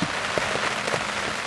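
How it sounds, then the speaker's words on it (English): Steady outdoor rain patters continuously during a spring turkey hunt, a dense, even hiss with scattered closer drops and no voices. "it's raining out"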